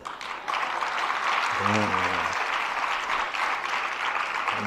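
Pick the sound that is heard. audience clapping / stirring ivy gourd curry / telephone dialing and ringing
audience clapping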